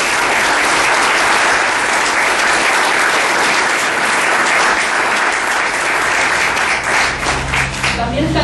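An audience applauds candidates at a Communist Party of the Canary Islands presentation event, loud sustained clapping from a crowd that holds steady and then begins to fade as a voice starts speaking near the end.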